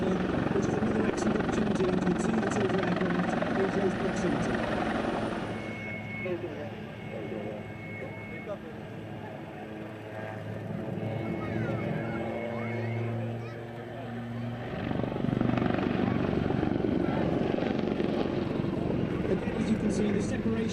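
Black Cats helicopter pair performing a display at the Malta International Airshow, a loud rotor drone that fades and swells while a public-address announcer talks over it.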